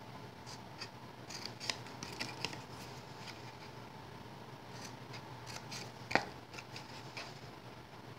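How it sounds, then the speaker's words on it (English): Quiet, intermittent snips of scissors cutting paper, a few crisp cuts spaced out over a hushed background, one sharper snip near the end. "we are going to take our scissors and we're going to cut up"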